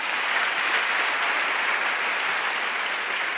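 A church congregation applauds, a dense, steady wash of clapping that holds at an even level throughout with no pauses.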